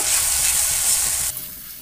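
Onion, ginger and garlic paste with tomato sautéing in a pan for baingan bharta, a steady close sizzle with stirring scrapes that drops quieter near the end.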